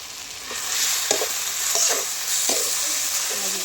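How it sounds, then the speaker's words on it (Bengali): Cabbage and soybean ghonto being stirred in a pan, with steady sizzling and a few scraping strokes of the spatula at irregular intervals, close and moderately loud with no talking. "ভালো করে এবার নেড়ে চেড়ে মিশিয়ে নেব"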